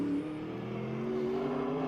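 A GT race car at Sonoma accelerates hard, its engine a steady, loud, rising drone held close and alone for a moment.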